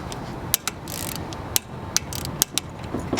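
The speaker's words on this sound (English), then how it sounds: "As you can tell, this one is also a click type, so it'll click right when you hit it." Sharp mechanical clicks, about half a dozen, ring out irregularly as a click-type torque wrench, a Pittsburgh or Icon model from Harbor Freight, is pulled to torque, with ratcheting noise between clicks.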